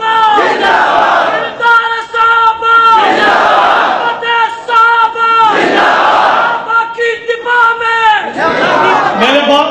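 A big crowd at an Urdu-speaking rally chants slogans in loud, rhythmic bursts of massed voices, each shout rising and falling with short gaps between, close and powerful throughout.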